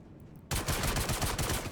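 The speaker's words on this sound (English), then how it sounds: "There is some shooting indeed, but it wasn't this NPC" Sudden burst of rapid gunfire from non-player characters in a Star Citizen firefight, erupting after a quiet moment and continuing as a dense, loud volley of shots.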